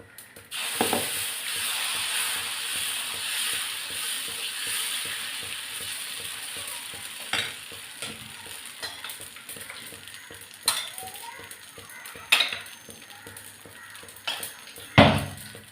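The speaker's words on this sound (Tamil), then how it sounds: "அதில் கடுகு பொடியுது." Mustard seeds spluttering and popping in hot oil for a dosa side dish, a dense crackling sizzle that fills the pan from the first second, then thins into scattered sharp pops and louder bursts near the end.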